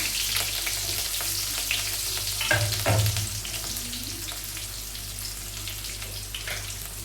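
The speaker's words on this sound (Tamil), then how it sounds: "அஞ்சு சின்ன வெங்காயத்தை இந்த மாதிரி கட் பண்ணி வச்சுருக்கேங்க. இப்போ போட்டுக்கலாம்." Chopped shallots fry in a pan with a steady, dense sizzle and crackle, a louder scraping burst near the middle as they are stirred, then settle back to an even hiss.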